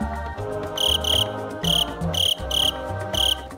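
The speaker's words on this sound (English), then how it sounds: "The very quiet cricket learned how to make sounds" A cricket chirping in a steady repeating pattern, short bright bursts in regular groups over a soft musical background, no speech.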